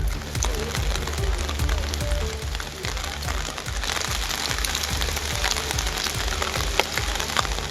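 Heavy rain pours down steadily in the Nagapattinam district near Nagore, a dense, loud and constant patter of drops on surfaces lasting throughout without a break.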